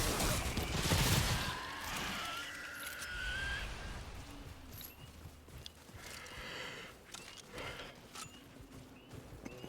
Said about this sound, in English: I love this little machine pistol.